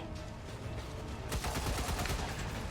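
Gunfire in XCOM 2 Long War 2: a quieter stretch gives way to a loud burst of rapid automatic shots with a rattling tail, up close and with no talk.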